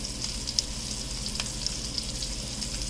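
Salmon fillets fry in melted butter in a pan, giving a steady close crackling sizzle with faint pops and spits throughout, no voices.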